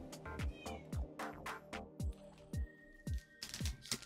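Several cat meows repeat in a loose rhythm around a card box opening, clear and fairly close, with crinkly handling and tapping noises between them; no one speaks.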